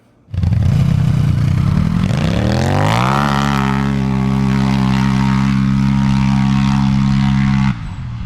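A racing exhaust on an off-road vehicle barks to life and revs hard, its loud exhaust roaring and settling into a steady drone before cutting off.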